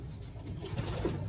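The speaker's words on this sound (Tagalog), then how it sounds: "nagwawala na yung mga ibon dito. Galit na galit." Racing pigeons in a breeder's loft coo and stir restlessly, soft low calls rising faintly over a steady background hum.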